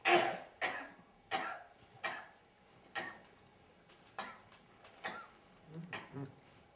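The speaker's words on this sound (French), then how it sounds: "Toussez, toussez." A patient coughs on command during a doctor's examination, a series of about eight separate short coughs at a steady, slightly slowing rhythm, close and clear in a quiet room.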